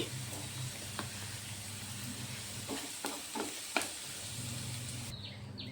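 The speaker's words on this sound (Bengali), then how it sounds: "আলুগুলো ভাজি হয়ে গেছে এখন আমি তুলে ফেলতে পারবো" Potatoes and onions frying in oil in a pan give a quiet, steady sizzle, with a few soft stirring scrapes and light clinks partway through.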